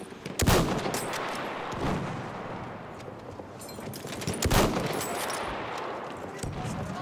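Sustained gunfire and rapid bursts rattle through a Battlefield 1 battle at Fao Fortress, with heavy shots punching out repeatedly over a dense, roaring backdrop of combat noise.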